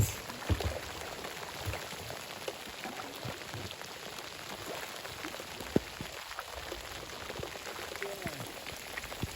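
Rain falls steadily on a wild Canadian river during a camping and paddling trip, a soft, dense patter of drops on water and gear with a few sharper taps, faint and close.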